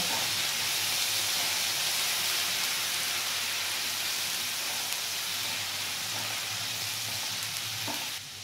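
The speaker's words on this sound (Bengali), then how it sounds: "পেঁয়াজ রসুনের কাঁচা গন্ধটা যাওয়া পর্যন্ত এটা একটু নেড়ে নেব" Onion and garlic paste fry in a pan while being stirred, giving a constant, close, bright sizzle with soft scraping from the stirring.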